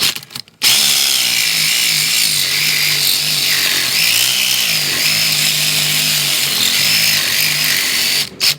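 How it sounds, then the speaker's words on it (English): Power saw blade grinding through a tough exhaust weld on a 2015 Suzuki GSX-R 750 during a cat delete: loud, continuous high-pitched cutting whine with a buzzing motor, starting after a brief pause and stopping near the end. "it's starting to cut through that weld a little bit here at the bottom"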